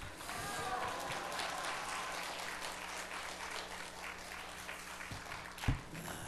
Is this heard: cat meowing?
no